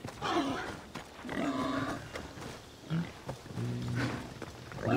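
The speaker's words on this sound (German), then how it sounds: "Ihr Schweinterl! Ja, bitte, ein süßes Schweinterl!" A pig grunts in the Assassin's Creed Odyssey video game, several low snorting grunts in irregular bursts mixed with other game sounds, fairly close and moderately loud.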